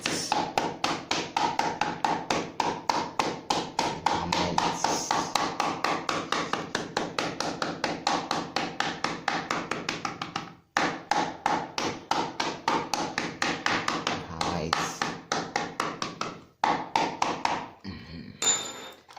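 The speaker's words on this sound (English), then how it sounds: "After hammering, then you put this one too. Then you hammer." Rapid, steady hammer blows on leather, dozens of sharp taps in quick succession with a couple of brief pauses, close and loud.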